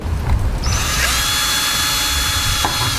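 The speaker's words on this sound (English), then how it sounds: "drill a hole right into the center of our beer bottle cap" A power drill bores a hole into the center of a metal beer bottle cap, loud and close, a steady whining grind with a brief catch near the end and no talking.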